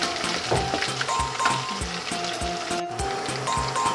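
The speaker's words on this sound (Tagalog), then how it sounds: "And igisa na natin yung bawang." Garlic sautéing in a frying pan for a dish of ginisang baguio beans with mushrooms, giving a steady close sizzle with faint clinks, some stirring and a few tonal kitchen sounds mixed in.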